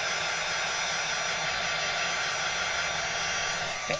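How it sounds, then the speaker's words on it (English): A heat tool blows a steady, loud, even whoosh while drying inked paper die cuts, close and continuous with no talk over it. "I'm going to heat them up here, just dry them off."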